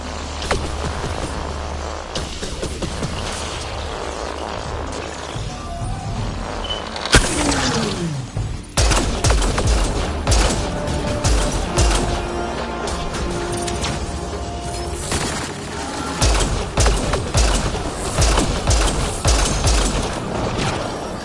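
Gunfire and combat effects from the sci-fi video game Mass Effect Andromeda, dense bursts of shots layered with mechanical clanks and impacts, loud and continuous with a sharp blast around the middle.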